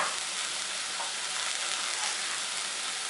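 Tomatoes and onion fry gently in a pan over a low flame for a poha upma breakfast, giving a steady, even sizzle and crackle that carries on unbroken and close, with no talking.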